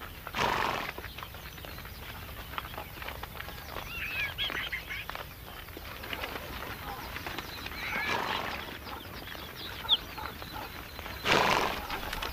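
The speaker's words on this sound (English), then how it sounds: "As the herders move their horses to and from water each day" Herded horses in an arid Asian desert whinny and shuffle on hooves at a moderate distance over a steady outdoor wash, with a sharper neigh near the end.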